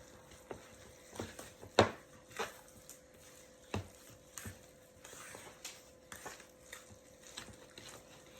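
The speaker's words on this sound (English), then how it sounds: "Now we're going to add 2 cups of shredded fresh carrots. Mix that all in there." Shredded fresh carrots being stirred into carrot cake batter in a bowl, heard as a series of soft, irregular scraping and tapping strokes of a spoon against the bowl, close and fairly quiet.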